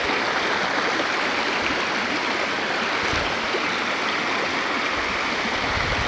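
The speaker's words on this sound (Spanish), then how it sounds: "Este es el río Quilichao." The Quilichao river, running with little water, flows past nearby with a steady, loud, rushing hiss of water that stays constant throughout and has no voices over it.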